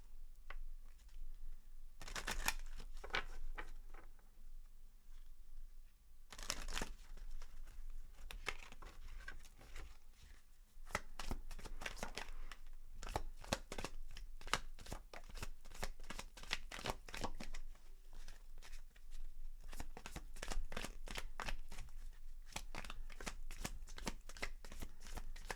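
Moonology Oracle cards are shuffled over and over, with dense rapid riffling and flicking in repeated bursts separated by brief pauses. The sound is close and fairly quiet, with no talking.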